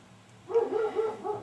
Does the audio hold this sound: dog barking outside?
yes